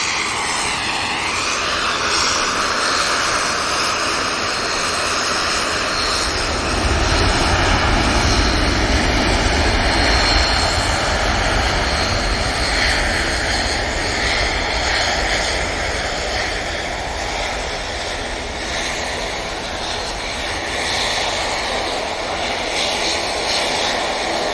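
KLM Embraer jet aircraft at Manchester Airport, a continuous loud engine roar with a rising whine, swelling in low rumble midway as it moves past, no voices.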